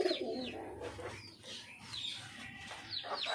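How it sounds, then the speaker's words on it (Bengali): Pigeons, including newly brought birds, coo close by in soft, repeated rolling calls that rise and fall over a quiet background. "এই যে এটা নতুন পায়রা"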